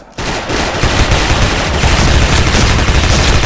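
Rapid automatic KRISS submachine gun fire in the shooter game Special Force: a loud, dense, continuous burst of shots right up close, running for over three seconds with no break.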